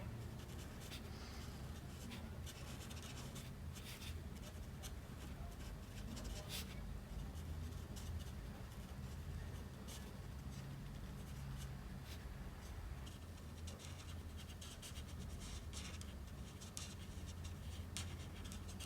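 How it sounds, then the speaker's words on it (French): A dark green felt-tip marker colours a Fortnite map drawing on paper, giving a soft, continuous scratchy rubbing of tip on paper with short repeated strokes over steady background noise. "avec un vert foncé, on vient colorier tout le reste en contournant en fait les zones qu'on a faites"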